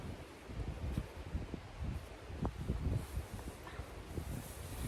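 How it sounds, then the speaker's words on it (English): Wind gusting steadily against a tarp outdoors, a continuous rustling, flapping rush with small irregular snaps, moderately loud and unbroken throughout. "the wind blowing that tarp is scuppering my plans"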